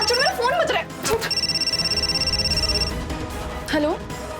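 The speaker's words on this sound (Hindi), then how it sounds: "अरे हाथ छोड़, मेरा फोन बज रहा है।" A mobile phone rings in a noisy domestic scene, its electronic tone pulsing steadily under overlapping voices of people arguing nearby.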